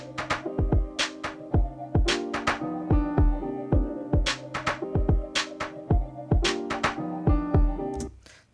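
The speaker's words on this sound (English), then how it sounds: "but I'll let you listen to the track. It sounds something like this." An electronic music track produced in Ableton plays alone, with punchy kicks, sharp hits and sustained tonal layers looping in a steady groove before cutting off near the end.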